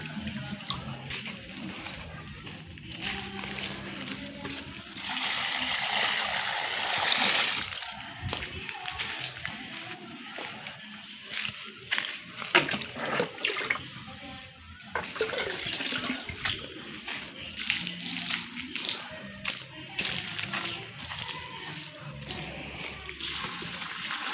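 Water poured from a bucket onto flower plants gushes and splashes in bursts, with quieter pauses between pours and a voice talking at times over it.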